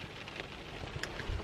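Pouring rain during Storm Doris gives a dense, steady hiss of falling water with scattered louder drops and spatters, continuous and fairly close, with no voices.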